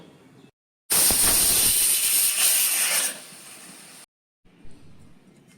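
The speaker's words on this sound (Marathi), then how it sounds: "आता ह्याची 1 सीटी खाण घ्या।" A pressure cooker of veg biryani lets out one loud, shrill whistle of escaping steam lasting a few seconds, tapering into a softer hiss before cutting off amid quiet kitchen background.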